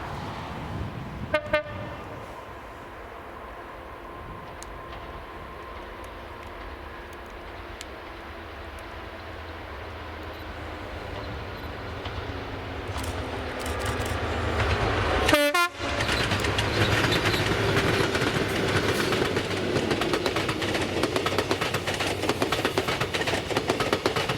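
Caledonian Sleeper service with class 66 locomotive 66741 and class 73 locomotive 73968 approaching and passing, a short horn toot early on and another sharp blast mid-clip, followed by a loud, sustained rolling rumble of the train going by nearby.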